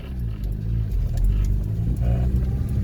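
A Honda D16Y8 car engine idles with a low, uneven rumble up close, sputtering slightly as if about to stall, its idle running very low.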